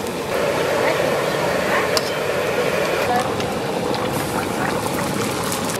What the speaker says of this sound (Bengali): আলু দিয়ে দিচ্ছি, ভাজা আলু